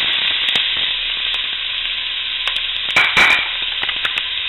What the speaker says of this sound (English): Saute the garlic and the onion.